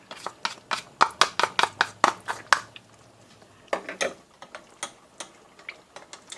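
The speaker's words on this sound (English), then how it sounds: "I'm going to stir a couple tablespoons of cornstarch into it." A spoon stirring cornstarch into milk clinks rapidly against the side of a bowl or pot, in quick rhythmic bursts, then pauses and resumes more sparsely, close and clear.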